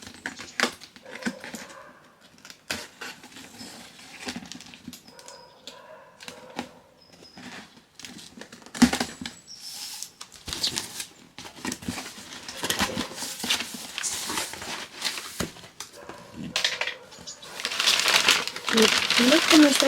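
Cutter slicing open a second cardboard box of clothing and unpacking it, with scattered crinkling of plastic and cardboard, scraping and rustling that grows denser and louder toward the end, someone speaking briefly in between.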